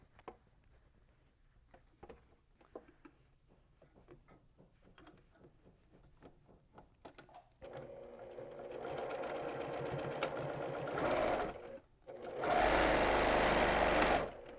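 Sewing machine stitching and backstitching a fabric seam on a small fabric catch-all, its motor whirring loudly in two bursts separated by a short pause, after softer handling clicks and rustles.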